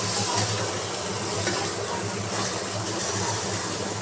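Eggplant curry with yogurt is mixed in a pan, producing a dense continuous sizzle with a low rumbling undertone, steady and close, with no talking.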